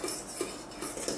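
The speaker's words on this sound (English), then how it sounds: "And I've got a fork. We're just going to stir it together." A fork scrapes and clinks quietly in a bowl while chicken livers and seasoning are stirred together, giving a few soft, rhythmic metallic taps up close and no voices.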